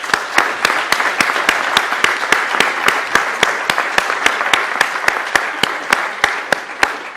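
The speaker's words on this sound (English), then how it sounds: "a big round of applause for Mike." Audience applause at a weather photography awards meeting, a steady crowd clapping with sharp individual claps standing out throughout, fairly loud and close with no talking over it.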